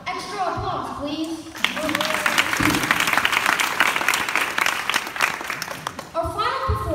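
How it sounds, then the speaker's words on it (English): Audience applause after two children's performance of Saint-Saëns' The Swan swells after a brief voice and continues steadily for several seconds, then fades as a voice returns near the end. "Extra applause, please."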